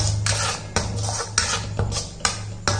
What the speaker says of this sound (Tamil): இதை நல்லா மிக்ஸ் பண்ணிக்கிடுவோம்.